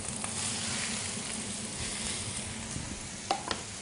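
Onions, shallots and beef frying in hot oil and butter in a pan, a steady dense sizzle throughout with a couple of brief utensil clicks near the end.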